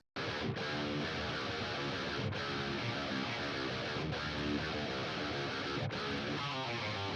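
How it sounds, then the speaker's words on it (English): Distorted electric guitar riff played as a doubled, wide stereo pair, loud and continuous with brief gaps between phrases. "If we take 2 separate guitar takes of the same riff and we put them together"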